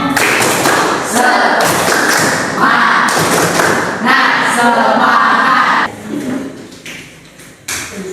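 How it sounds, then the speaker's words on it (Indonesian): Classroom of students performing a rhythmic spirit clap, sharp hand claps and thumps in a patterned sequence, loud and close, mixed with voices chanting along before the clapping fades at the end. "Tepuk semangat"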